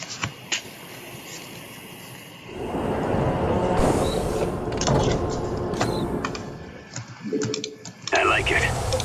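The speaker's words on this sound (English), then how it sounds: "A train is approaching through a tunnel in the northwest." In-game sound from StarCraft 2: Wings of Liberty as a train approaches through a tunnel, a loud rumbling mechanical roar that swells in after a couple of seconds and holds, with occasional higher clanks.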